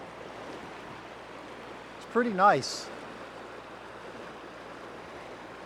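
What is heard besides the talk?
creek flowing through the mountains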